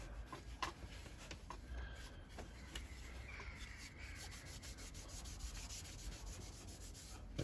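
A soft cloth rubs Liberon beeswax into a wooden powder flask, giving a faint, steady, close-up scrubbing and brushing with small rapid strokes and no talking.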